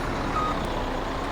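A vehicle in the video game Farming Simulator 17 sounds steady reversing beeps over a continuous engine drone, loud and close.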